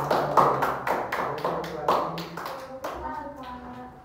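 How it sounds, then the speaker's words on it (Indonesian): Students in a classroom clap for a group in a brief, uneven burst of close hand claps, with people talking over and after the clapping. "Tepuk tangan dulu dong buat kelompoknya"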